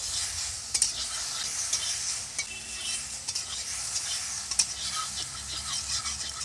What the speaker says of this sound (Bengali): এখন চিংড়ি মাছটাকে একটু ভেজে নেব হালকা কড়াইতে